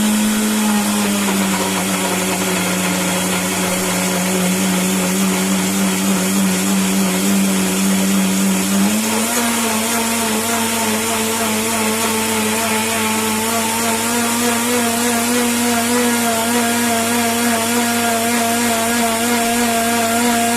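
Electric blender running steadily and loudly throughout, whirring as it blends pineapple juice with sugar, its motor pitch dropping briefly before rising again and holding.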